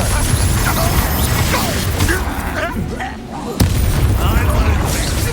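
A Confringo fire spell bursts in Hogwarts Legacy amid combat, booming impacts and clattering crashes over a busy battle din, with voices shouting throughout.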